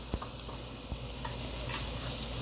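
Barfi mixture is stirred in a pan, a soft, faint sizzling hiss with a few light scrapes and taps of the spoon against the metal, and no voices.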